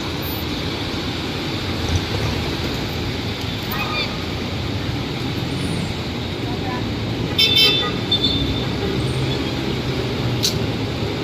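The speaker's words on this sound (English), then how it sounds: "As you can certainly see it, a lot of traffic on that side." Early-morning street traffic in Quiapo, Manila: a continuous wash of engines and road noise with a few short horn toots, one louder burst near the end, steady and fairly close throughout.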